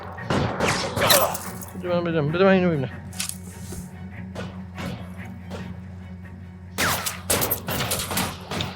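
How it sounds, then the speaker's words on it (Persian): Gunfire from the video game L.A. Noire VR: sharp shots and bursts ring out close, clustered early and again near the end, with voices talking between them. "بازم تیراندازی شد که اون تفنگ."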